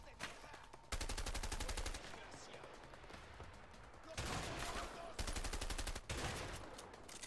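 Shotgun blasts in the video game A Way Out, several loud bursts of rapid gunfire in blocks separated by quieter stretches, with faint voices underneath.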